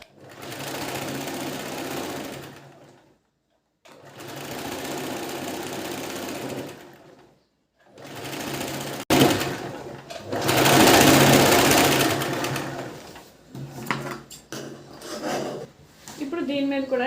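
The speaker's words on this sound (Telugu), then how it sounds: "ఇప్పుడు నడుం బెల్ట్ అనేది ఈ చివరి నుంచి కుట్టేసేయండి" A sewing machine runs in long bursts while stitching the waist belt of a princess-cut blouse, with brief stops between runs, close and steady, and a voice talks near the end.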